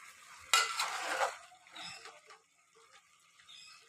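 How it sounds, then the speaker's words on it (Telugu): Chicken curry pieces with spices being stirred in a pan of hot oil: a loud scraping burst at first, then softer clinks and a low sizzle, close by with no talking. "ఒకసారి చిన్నగా కలుపుకుందాము"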